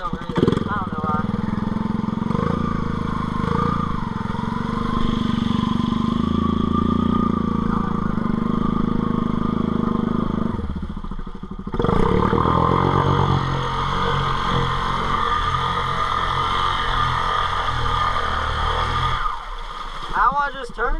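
A dirt bike engine revs loudly and continuously in a wet creek and swamp, backing up in two-wheel drive, its rough drone rising and falling with a brief dip near the middle and talk mixed in.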